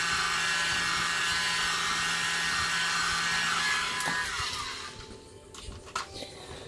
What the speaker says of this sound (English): These little blowers are amazing.